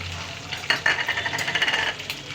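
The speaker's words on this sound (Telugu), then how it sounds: "ఉల్లిపాయలు ముక్కలో వేసేసుకుందాం" Chopped onions sizzle in hot oil while a utensil stirs them with quick scraping strokes, close and moderately loud, with no talking.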